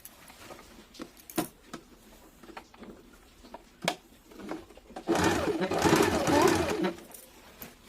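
A sewing machine stitching a double seam on an umbrella baby frock, a sustained whirring run near the end after scattered clicks and fabric handling, close by.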